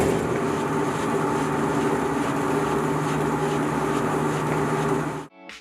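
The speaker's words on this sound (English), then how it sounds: "That was the sound of a luggage carousel at the RAF Bryce Norton Terminal building." A luggage carousel in the RAF Brize Norton terminal building: a steady mechanical rumble with a constant hum and rattle runs unbroken for about five seconds, then cuts off abruptly followed by a brief clatter.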